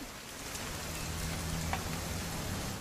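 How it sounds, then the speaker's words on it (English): Rain falls steadily in the video game What Remains of Edith Finch, a dense, even patter of drops with a faint low hum underneath, close and uninterrupted. "It's gonna rain the whole weekend, isn't it?"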